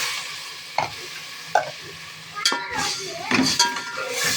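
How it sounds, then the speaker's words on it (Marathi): Spice masala roasting in a pan sizzles softly underneath irregular scraping and clinking strokes of a spoon stirring against the metal, with a few sharper knocks close by. "तर असा मसाला भाजून घ्यायचा चांगला."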